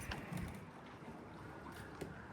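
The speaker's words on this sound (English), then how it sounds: "The wind's certainly increased." Wind gusting around a sailboat tied up at a dock, a low, steady rush with buffeting rumble on the microphone and a few soft knocks, with no one speaking.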